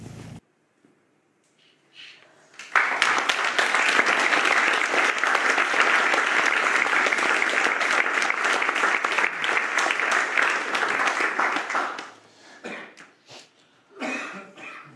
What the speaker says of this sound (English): That clapping's for you two.